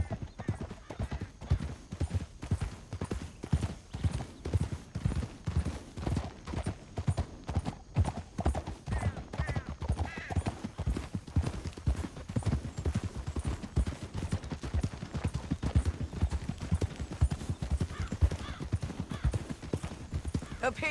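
Horses trot with steady clip-clop hoofbeats through a Red Dead Redemption 2 canyon ride, close and continuous, with occasional whinnies, under game music and characters talking.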